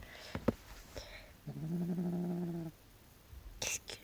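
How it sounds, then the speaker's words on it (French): A pet cat purrs and growls softly at close range, a steady low rumbling run lasting about a second, with faint scuffling noises before and after it. "si vous entendez des ronronnements, c'est mon chat."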